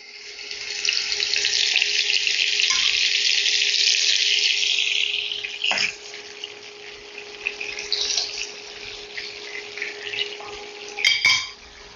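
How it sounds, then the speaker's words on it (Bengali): Fish go one by one into hot white oil in a frying pan, setting off a loud, close sizzle that swells and holds for several seconds, then settles into quieter frying with a few clinks of utensils. "তেল গরম হয়ে গেছে, এখন আমি একে একে মাছগুলো দিয়ে দিচ্ছি।"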